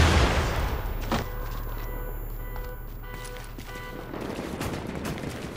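Gunshots in The Division's Dark Zone, several sharp cracks scattered across a few seconds over a steady low background hum, with no talking.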